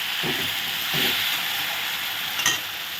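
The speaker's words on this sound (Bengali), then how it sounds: "এখন পেঁয়াজ রসুন দিয়ে একটু ভালো করে ভাজা করে নিচ্ছি" Steady sizzling of onion and garlic frying in a pan, with a few soft scraping stirs breaking through the hiss.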